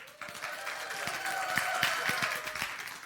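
A church congregation claps during a Sunday service, a fairly faint, sustained patter of many hands with a few sharper individual claps standing out, and some voices beneath.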